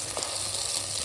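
Masala frying in oil on a low flame for village-style crab urval, a steady close sizzle with a faint stir partway through.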